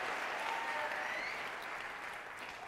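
A church congregation claps and applauds at a pastor's sermon, a dense, steady wash of clapping that holds throughout and slowly fades toward the end.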